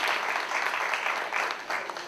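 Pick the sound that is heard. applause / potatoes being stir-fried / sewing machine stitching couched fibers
applause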